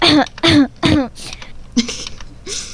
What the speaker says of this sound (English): Random cough.